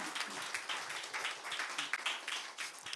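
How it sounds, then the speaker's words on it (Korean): Congregation applause during a church anniversary thanksgiving service: dense, steady clapping from many hands fills the whole stretch, fairly soft and distant, with no talk over it. "우리 함께 감사의 마음을 담아서 박수 올려드리겠습니다."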